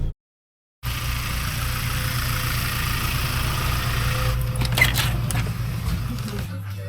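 A car engine idles steadily on a cold morning while the windscreen defrosts, a low continuous hum after a short silent gap at the start, with a few faint knocks near the end.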